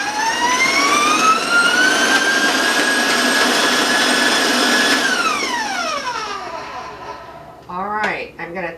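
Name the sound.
stand mixer beating chocolate almond oatmeal cake batter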